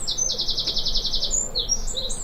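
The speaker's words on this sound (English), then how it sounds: "And here we are again with the greenfinch, Elvis." Greenfinch calling beside a garden bird bath in England, a quick series of bright repeated chirps followed by scattered higher twitters, fairly close and clear over faint background noise.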